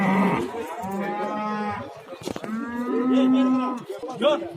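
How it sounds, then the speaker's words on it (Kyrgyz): A large cow moos at the Uchkun livestock market, making several long, loud, drawn-out lowing calls close by with short breaks between them. "Уйду деле көрүп турса аябай чоң уй."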